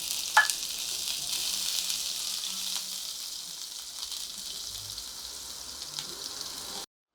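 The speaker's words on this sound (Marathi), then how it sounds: "आता इथे मी एक कांदा चिरून घेतलेला आहे तो घालते" A medium chopped onion fries in a pan of oil for palak paneer, giving a steady, close sizzle that continues evenly without any talk.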